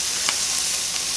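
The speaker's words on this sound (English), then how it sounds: "let these pork chops cook" Pork chops fry steadily in a pan, a dense, even sizzle at moderate loudness with one brief louder pop of spatter early on and no voices.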